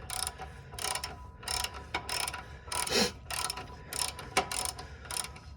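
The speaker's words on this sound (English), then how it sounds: "I'm gonna remove both bolts and try to get this caliper and bracket off as one piece." Ratchet clicking in repeated bursts while loosening the caliper bracket bolts on the rear brake of a 2000 Lexus LX470, close and fairly loud with short pauses between strokes.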